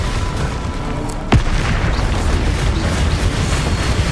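Spell blast from Hogwarts Legacy combat: a single sharp booming explosion strikes about a third of the way through, then leaves a dense, roaring wash of game noise that continues steadily to the end.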